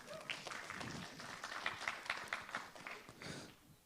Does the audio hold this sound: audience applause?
yes